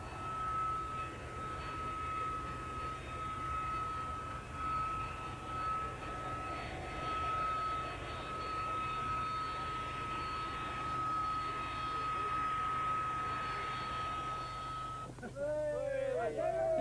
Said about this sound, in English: This is the T-10 trainer version flying into Fairford from its base at RAF Wittering.